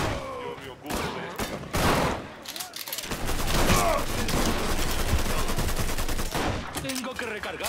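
Rapid bursts of gunfire ring out in the Mafia III video game, with dense, overlapping automatic shots and a brief lull near the start, loud and sustained throughout.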